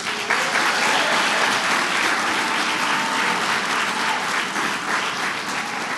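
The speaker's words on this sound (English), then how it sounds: "Let's give a big round of applause" A large crowd at the Bronx Museum of the Arts claps loudly and continuously for a speaker, a dense, steady roar of applause with no pauses.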